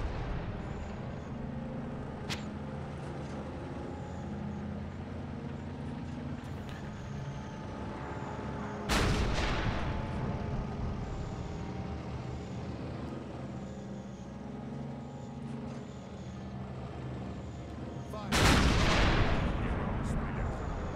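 Grad rocket artillery fires in ArmA 3, with two heavy, sharp launch blasts several seconds apart over a constant vehicle engine rumble and faint distant booms, while people talk over radio.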